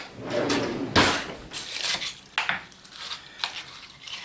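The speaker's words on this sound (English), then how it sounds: "Get a spoon here and start mixing this in." A spoon stirs fried bacon into a pot of baked beans, with several soft scraping and knocking strokes against the pot, close and fairly quiet, separated by brief pauses.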